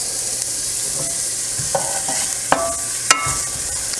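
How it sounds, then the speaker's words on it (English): Minced shallots fry in hot oil with a soft, steady sizzle, punctuated by a few sharp clicks and scrapes of a utensil against the pan, close and clear. "We're going to put them in that nice hot oil"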